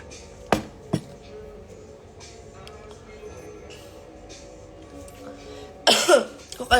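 Someone with a cold gives two sharp coughs in quick succession, close and fairly quiet against a low room background. A louder burst of clattering noise follows near the end.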